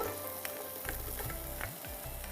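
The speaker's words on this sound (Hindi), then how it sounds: "और इसके बाद हम इसको हल्का सा फ्राई करेंगे" Onion fries in ghee in a pot for a spicy beef khichra. A steady, close sizzle runs throughout, broken by a few scraping stirs, with no talking.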